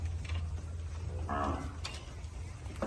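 Cattle freshly unloaded from a truck into a livestock trader's pen give a single drawn-out moo in the middle, with low steady background rumble and no talk.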